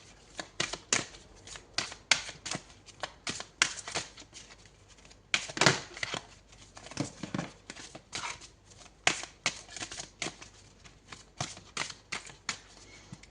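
Tarot cards being handled, shuffled and drawn close up: quick papery flicks and riffles in irregular bursts, fairly quiet, with no talk over them.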